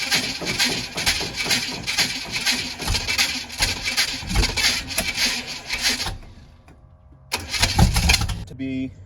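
A Ford V8 with HEI ignition and clicky fuel pump, no choke, cold-started on a 40-degree day: a busy rattling run for about six seconds, a brief near-silent gap, then the engine bursts back loudly.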